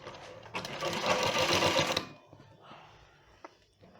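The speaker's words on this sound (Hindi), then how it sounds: "ये देखिए यहाँ से सिलना शुरू करेंगे।" An electric sewing machine stitching fabric for a ruffle trouser whirs in a close, loud burst of about one and a half seconds, then stops, leaving quiet handling noises and a faint click.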